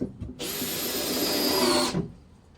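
A power drill drives a screw into plywood for a full-size Santa sleigh, one steady high whirring run of about one and a half seconds, close and loud, bracketed by faint handling knocks.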